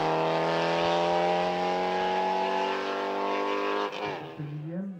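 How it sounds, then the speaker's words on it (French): A Lotus Cortina race car at the Dunières hill climb holds a loud, steady high engine note at full throttle, then drops sharply as the driver lifts and the revs fall and wobble near the end. "Arthur Barallon pilote la Lotus Cortina, propriété de sa famille depuis 60 ans"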